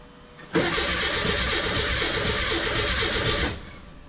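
A buggy engine cranks on a freezing cold morning and catches almost at once, then runs loud and close for about three seconds with a rough, steady roar before cutting off.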